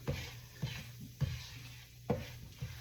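Flour being stirred into sausage grease in a pan to cook a roux for southern sausage gravy, soft rhythmic scraping strokes every half second or so over a quiet sizzle, close and fairly faint.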